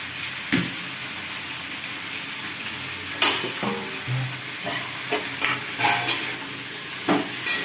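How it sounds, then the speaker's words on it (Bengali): Spinach being stirred in a pan with green chilli, giving intermittent scraping and clattering stirs over a steady low sizzle, fairly close. "একটু নাড়াচাড়া দিয়ে সামান্য একটু ঢেকে দেবো তাহলে একটু তাড়াতাড়ি করে একটু সেদ্ধ হয়ে যাবে"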